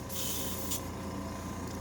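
Spray gun hissing in a steady continuous burst as glow paint is sprayed onto a custom fishing lure, close and fairly quiet over a low background hum, with no talking.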